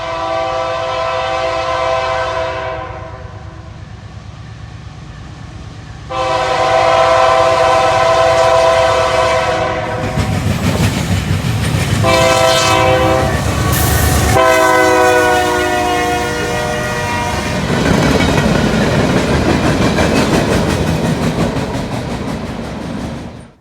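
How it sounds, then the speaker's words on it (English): CN C6M locomotive leading a passing manifest freight, its multi-chime horn blaring loudly in long blasts, separated by rumbling rail noise and wheel clatter, the train close by throughout. "Gotta love the horn on those C6Ms."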